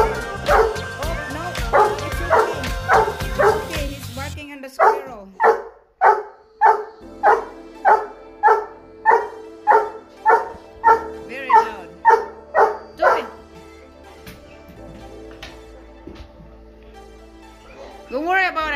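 A Goldendoodle barks repeatedly in a steady, rhythmic series of about fifteen loud barks, with music playing at the start.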